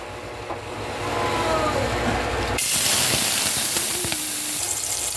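Onions dropped into hot cooking oil in a pan for pakbet break into a loud, steady sizzle and hiss partway through, continuing strongly to the end after a quieter stretch of kitchen background.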